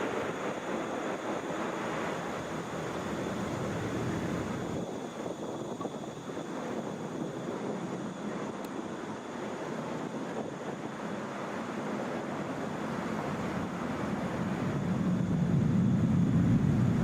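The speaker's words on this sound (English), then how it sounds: "Wheels up for our 767." Boeing 767 airliner taking off at Atlanta International Airport, a steady broadband jet roar heard from a distance with wind buffeting, growing louder and deeper toward the end as the aircraft climbs away.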